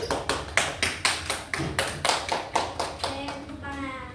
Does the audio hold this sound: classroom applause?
yes